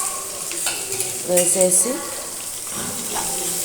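Mustard tempering spices, onion and green chilli frying in hot oil give a steady sizzle with stirring scrapes, a brief louder clatter partway through, and a voice talking over it.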